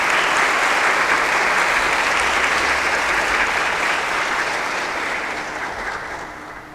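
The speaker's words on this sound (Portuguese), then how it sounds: "Recebam com uma salva de palmas" Sustained applause from a church audience welcoming a priest, dense and loud for several seconds before slowly fading toward the end, with no voices over it.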